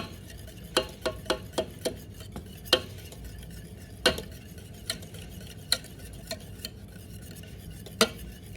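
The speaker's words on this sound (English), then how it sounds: "we want to mix it quickly again so that the eggs don't curdle" A utensil quickly stirs eggs into lemon meringue pie filling in a pan on the hob, with sharp, irregular clinks against the pan over a low steady background.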